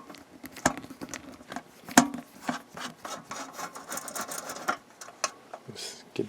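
Two screws being removed to open a Salton RC 200 rice cooker, giving close, continuous scraping and rubbing of a screwdriver turning, with small clicks and knocks throughout.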